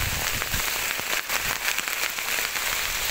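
Heavy rain pours onto a sugarcane field in a dense, constant hiss with scattered louder drop impacts, close and loud throughout, no voices.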